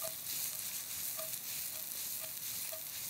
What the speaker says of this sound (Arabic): في هذه الأثناء راح نقلب البصل.